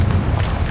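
A blasting spell explodes in Hogwarts Legacy as a deep, dense boom that fills the whole short moment, heavy and rumbling with no clear attack or fade.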